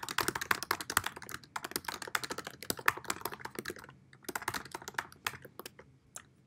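Someone types steadily on a computer keyboard, a dense rapid patter of light key clicks with a brief lull midway, close and fairly quiet, no voices.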